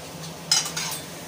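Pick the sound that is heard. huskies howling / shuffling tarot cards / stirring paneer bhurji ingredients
stirring paneer bhurji ingredients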